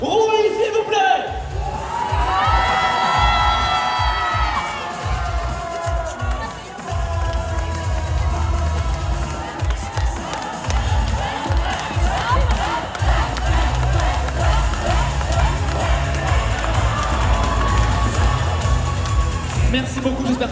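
A festival crowd at a cosplay parade in Troyes claps and cheers loudly and steadily, with whoops and shouts rising over the sustained applause throughout.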